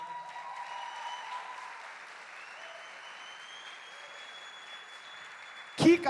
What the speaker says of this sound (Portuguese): Você pode aplaudir as irmãs?